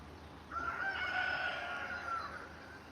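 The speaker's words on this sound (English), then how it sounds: "Got the rooster in the background." A rooster crows in the background, one long drawn-out call that rises and then trails off at moderate distance.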